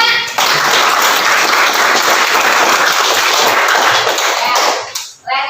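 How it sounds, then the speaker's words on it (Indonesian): Sustained applause fills a classroom during a traditional dance lesson, dense steady clapping from many students lasting several seconds before tapering off near the end. "tepuk tangan dulu, Nak."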